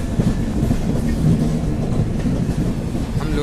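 A premium express train runs out of the Delhi yard alongside the Amritsar Shatabdi, its loud continuous low rumble and rail roar filling the whole stretch with faint rattles on top and no talk.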